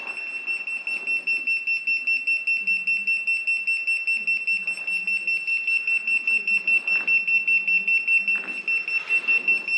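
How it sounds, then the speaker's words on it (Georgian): An electromagnetic detector alarm sounds during a paranormal investigation in a house, with rapid, evenly spaced high-pitched beeps repeating about four times a second for ten seconds, loud and close, over faint background noise. "დეტექტორმა სიგნალი, განგაშის სიგნალი მოხდა"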